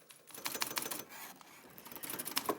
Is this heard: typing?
yes